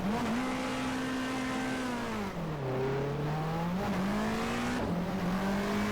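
Race car in the GTR2 video game, its engine note swooping down and back up as the car spins off the racing line, with tyre noise, loud and continuous.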